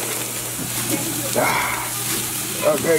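Meat sizzling over high flames on a grill, a continuous hissing crackle with a low hum beneath, while a person speaks briefly.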